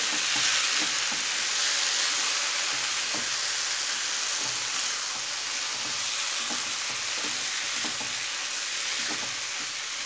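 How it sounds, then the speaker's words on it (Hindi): Drumstick flowers frying in a pan over a low flame, a steady even sizzle with soft intermittent stirring taps, close and unbroken for ten seconds, without speech. "जो फ्लेम है उसको हम लो कर देंगे एंड इसको थोड़ी देर के लिए भून लेंगे"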